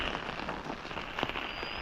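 Monsoon rain falling in the Konkan region at the start of the season, a steady broadband patter of drops on surfaces with a few sharper splashes, continuous and fairly soft with no voices.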